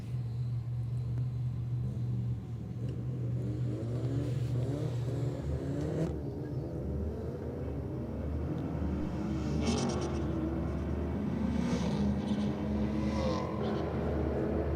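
A Mitsubishi Lancer Evo race car accelerates down a drag strip, its engine note climbing in rising sweeps from a distance, followed by more scattered engine and track noise.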